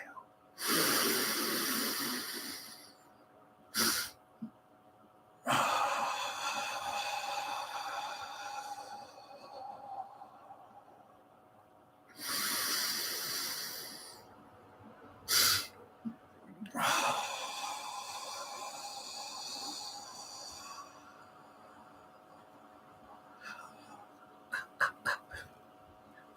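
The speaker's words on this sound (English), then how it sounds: "So you want to exhale, get your air lungs empty, inhale through your nose." A person does a deep breathing exercise, drawing air in through the nose and pushing it out in several long, close, forceful breaths separated by pauses. Short sniffs and quieter breaths come in between, with no talking.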